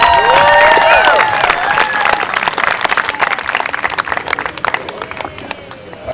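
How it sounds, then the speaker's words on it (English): Wedding guests applaud and cheer for the newlyweds, with loud whistles and shouts at the start and clapping that gradually thins and fades over several seconds. "let's give a big round of applause and cheers to Mr."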